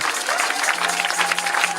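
A church congregation applauds the Lord, a steady wash of dense clapping that carries evenly through the whole short stretch with no pause or break.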